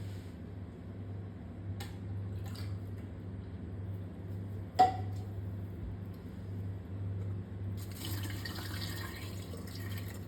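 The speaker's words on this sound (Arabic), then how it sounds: "اديها كمان دلوقتي كوباية مية" A cup of water is poured into the salt compartment of a dishwasher, a soft hissing trickle near the end after quiet stretches over a low steady hum, with a couple of faint clunks earlier.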